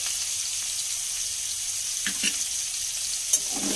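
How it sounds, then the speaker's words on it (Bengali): Cut potatoes seasoned with salt and turmeric sizzle steadily in a pan, a soft continuous hiss with a few brief stirring scrapes and clinks, no voices. "তা আমি কেটে রাখা আলুগুলো দিয়ে দেবো একটু ভাজা হওয়ার জন্য।"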